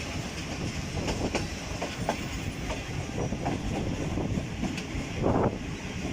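The Rehman Baba Express (48 Down) rolls through Jumakot railway station, heard from on board as a steady rumble with rhythmic clickety-clack wheel beats and a brief louder rush near the end; no talk.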